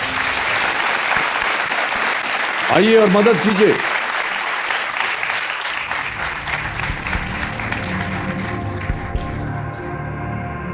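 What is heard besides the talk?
studio audience applause on KBC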